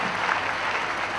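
An audience applauds in a dense, steady wash of clapping, loud and continuous for a brief moment with no clear individual claps standing out.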